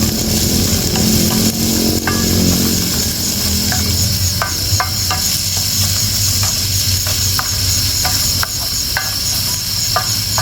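Steady sizzling hiss of a spice paste frying in hot oil until it yellows, with scattered sharp pops and crackles throughout, close and fairly loud.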